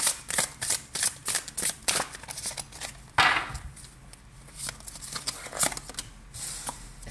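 Tarot cards being shuffled in rapid, close riffling bursts, followed by a louder swish as a card is drawn, with more shuffling taps afterward.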